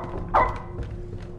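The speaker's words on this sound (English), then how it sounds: "I need to go see what the dog is barking at." A single short dog bark in the horror video game Grandma's House, heard once over a low, dim ambient background with no speech.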